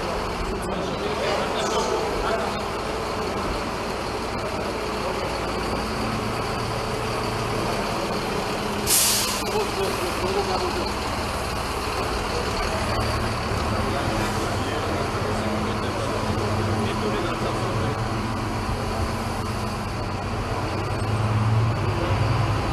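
Engine of a Transco bus assembled in the DR Congo, droning steadily throughout a ride, with low rumble, road noise and a brief hiss partway through, continuous and fairly close.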